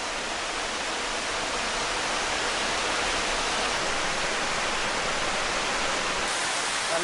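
A waterfall on a mountain stream, the second drop of a cascade, roars as a dense, continuous rush of falling water, loud and close, with no voices.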